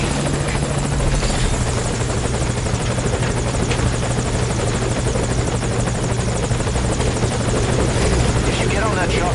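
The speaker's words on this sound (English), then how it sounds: "If you get on that chopper, you'll be aborting the mission." A helicopter idles at a landing zone in the video game Metal Gear Solid 5, its steady rotor thump and engine whine loud and constant throughout, with faint talk passing over it.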